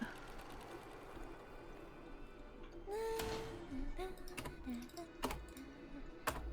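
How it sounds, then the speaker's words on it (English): Computer keyboard typing at a desk, quick, fairly faint clicks in uneven bursts with a few sharper key taps, accompanied by soft background sounds and brief vocal noises. "Can you still hear my keyboard?"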